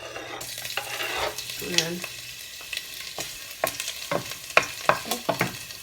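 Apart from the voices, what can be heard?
garlic sizzling as it is stir-fried in a pan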